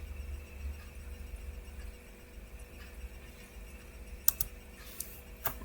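Keys tapped on a computer keyboard while a network command is entered, quiet and close, with a low hum underneath and a few sharper clicks near the end.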